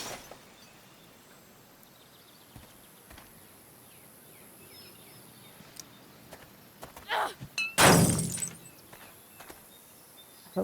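Junk being smashed in Life is Strange: Before the Storm, with a few faint knocks and then a loud, rough crash with a clattering tail near the end, otherwise quiet.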